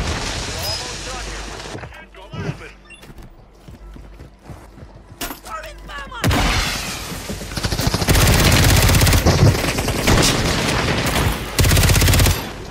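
Gunfire in a video game, likely from a fire shotgun: rapid, dense bursts of shots, loud and close, packed into the second half, with game sounds and talk around them.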